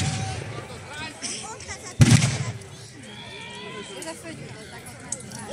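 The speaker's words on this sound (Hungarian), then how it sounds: "Közben most már a magyar tüzérség lövései elérik a települést is" Cannon fire at an 1848 battle reenactment, one heavy booming shot that rolls out over the field, heard under someone narrating, with faint distant crackle afterward.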